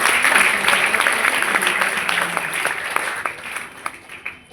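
An audience at a college ceremony in India claps loudly for an honoured guest, a Rajya Sabha MP. The applause starts strong and gradually thins and fades toward the end.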